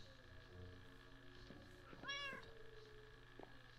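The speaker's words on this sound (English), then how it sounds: "Cat." A Minecraft cat gives a single short, faint meow in the middle, set against a quiet, steady background hum.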